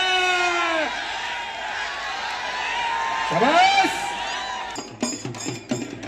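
Crowd at a wrestling bout between Sikandar Shaikh and Prithviraj Patil, a loud, sustained roar of cheering and whoops under an announcer's amplified voice, with bursts of clapping near the end.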